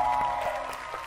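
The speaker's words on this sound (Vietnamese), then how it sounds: "Vỗ tay thiệt lớn nha mọi người ơi" Guests at a matchmaking gathering clap briefly, a short patch of scattered applause mixed with a humming background and a few distinct hand claps.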